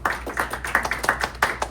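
A small community meeting crowd gives brief applause, a handful of close, distinct hand claps in a loose, uneven rhythm over a few seconds in a quiet room.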